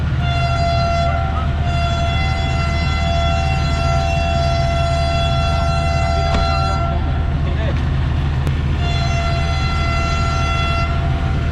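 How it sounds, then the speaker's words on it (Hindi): A train pulls out of a railway station in Pakistan on a business-class run from Lodhran toward Karachi, with a loud continuous rumble and sustained steady horn-like tones throughout, and no talk. "ट्रेन का जो सिग्नल आप देख सकते हैं ग्रीन हो चुका है और ट्रेन यहाँ से निकलने के लिए तैयार है"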